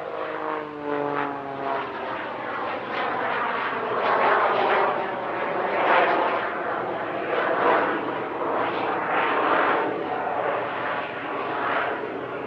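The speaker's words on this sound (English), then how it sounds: "The finale is an incredible vertical departure, the sort of thing that we'd usually expect to see from an afterburning frontline fighter." At an airshow, an aircraft roars through a vertical departure climb, its engine noise loud and sustained with a droning, slightly pulsing tone that holds steady throughout.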